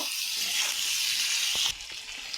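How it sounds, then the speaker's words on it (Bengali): Tomatoes fry in a pan for chilli soybean, giving a steady, bright hiss of sizzling oil that drops in level partway through as they are stirred, with no talk over it. "এই টমেটোগুলো দিয়ে দেবো নাড়াচাড়া করে নেব ভালো করে ভেজে নেব"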